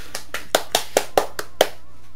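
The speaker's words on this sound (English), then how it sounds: "Clap, clap, clap, I applauded." Hand claps in the Everlasting Summer video game, eight quick dry claps in an uneven burst, fairly close and loud with no talk over them.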